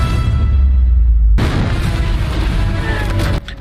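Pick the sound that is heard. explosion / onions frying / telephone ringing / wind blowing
explosion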